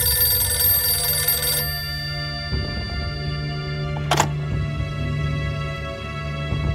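An office telephone rings in a period spy drama. A sharp bell tone cuts in briefly over a steady background hum, with no talking.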